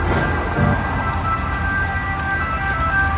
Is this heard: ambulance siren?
yes